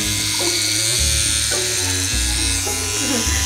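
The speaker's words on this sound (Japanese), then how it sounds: "じゃあシェーバーを使います。" An electric shaver buzzes steadily while cutting a man's hair during a home haircut, its hum shifting in pitch as it moves through the hair, with voices talking alongside.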